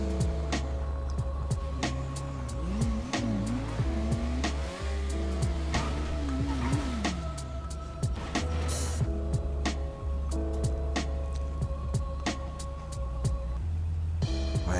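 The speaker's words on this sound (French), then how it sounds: "Vraiment nul cette moto, franchement." A motorcycle engine in GTA 5 revs and drones steadily at close range, its pitch sweeping up and down with throttle changes, with brief scrapes and knocks scattered throughout.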